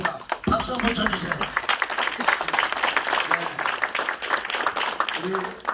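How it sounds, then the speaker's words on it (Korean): A crowd at a Korean lecture event applauds, dense, sustained clapping filling the room throughout, with some voices mixed in underneath. "박수 한번 쳐주세요"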